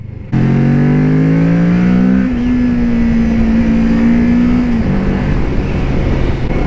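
A Kawasaki Ninja 650 motorcycle engine revs up loud and close, its pitch rising and then holding steady at high revs before easing down, with no voices.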